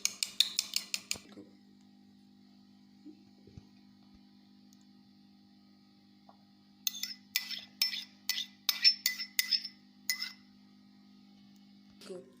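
A metal spoon clinks against a bowl while kewra essence is stirred into yogurt for chicken matka biryani, with a short burst of taps at the start and a longer run of rhythmic clinks later, over a steady low hum.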